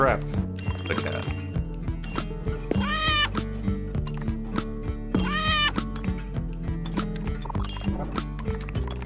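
In the video game Arranger, a cat meows twice, clear rising mews a few seconds apart, cutting through bouncy, plucky game music and clinking effects.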